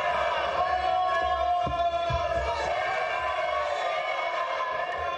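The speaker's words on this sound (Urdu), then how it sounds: "پارلیمنٹ کی گیلری میں موجود کارکنان کے نواز شریف کے حق میں نعرے" Party workers in a parliament gallery chanting slogans for Nawaz Sharif, a blended crowd of voices rising and falling at a distance, heard under a steady hum of the chamber.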